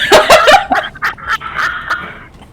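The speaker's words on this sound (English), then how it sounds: "You left your dog downstairs again!" A dog barks several times in a quick, loud, close run of sharp yaps, trailing into softer whining yelps.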